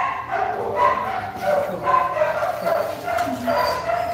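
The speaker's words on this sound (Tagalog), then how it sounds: "Sa baba din kumakahol." Several Samoyed dogs at a dog cafe in Seoul bark and yip in overlapping bursts close by, an excited, continuous chorus with faint voices in the background.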